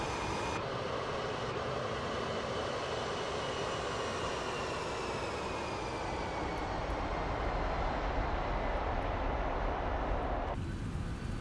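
Steady jet engine roar of an MD-11 airliner in Microsoft Flight Simulator 2024, a continuous broadband drone with a faint high whine that holds constant and alone throughout.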